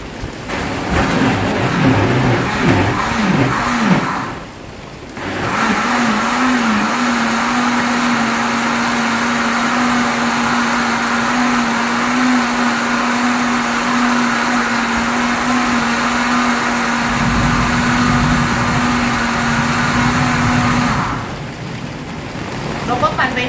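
A kitchen blender runs steadily, whirring pandan leaves with water into a fine green liquid; the loud motor drone starts after a brief pause and carries on without a break for about sixteen seconds before stopping.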